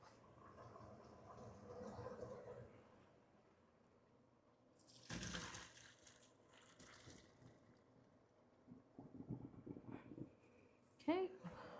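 Boiled potatoes are poured into a colander, sending a short gush of water rushing and splashing into a sink. A person talks before and after, and pots clatter faintly near the end.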